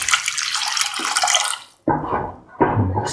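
Water poured into a cooking pot for scrambled egg cashew stew, a loud close gushing splash in two bursts separated by a brief pause.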